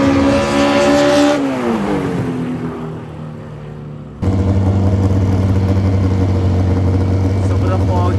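A Toyota 86 drag car and a rival Honda roar loudly, one engine winding down from high revs before another kicks in with a sudden, steady, close engine drone, with a crowd murmuring in the background.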